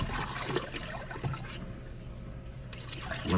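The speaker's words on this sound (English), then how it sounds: "dump the water" Water is dumped out of a container while foam ear tips for in-ear monitors are being cleaned, making a short, close splash and trickle of liquid.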